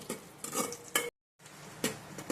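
Cashews and raisins frying in ghee on a low flame, a soft steady sizzle stirred with a spoon, with brief scraping bursts and a short silent break, close and quiet with no talk.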